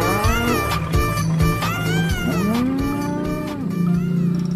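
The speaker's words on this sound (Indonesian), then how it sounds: "Ini namanya sapi belang." A toy spotted cow gives a loud, close, drawn-out moo over a busy background of clicks and tones, the call swelling and sliding in pitch for about two seconds.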